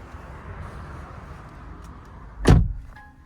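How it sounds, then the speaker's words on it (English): A door on a 2023 Kia Sportage GT SUV shuts with a single solid thud heard up close, after a quiet stretch of faint background hum. "Beautiful, solid closing doors."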